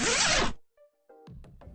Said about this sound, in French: C'est le bruit d'une fermeture éclair.